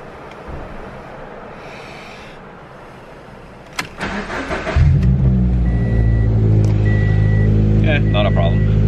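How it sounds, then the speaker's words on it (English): A car engine is started: the starter cranks briefly and the motor catches, settling into a loud steady idle with the occasional beep, while a person talks nearby. "let's go see if my car starts first"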